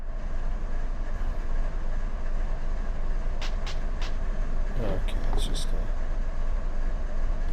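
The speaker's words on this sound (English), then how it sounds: "a train that's holding on the main." A freight train idles on the main line in the Run8 train simulator, with a steady diesel rumble and a few brief metallic squeals and clanks. Someone talks briefly over it.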